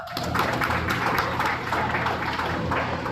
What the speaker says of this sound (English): Everyone give the Pee Wee Showman a big round of applause.